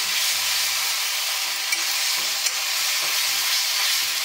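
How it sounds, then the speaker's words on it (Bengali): Spice paste frying in hot oil for a Bengali fish-head dal, a steady close sizzle with scraping stir strokes and a couple of sharp clicks from the spoon against the pan. "মশলাটা কষে যাবে"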